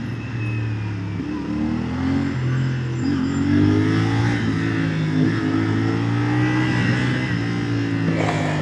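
Exhaust note of a 450 SR motorcycle being ridden on the road, a steady droning engine with shifting revs, close and continuous under wind rush, with no talking.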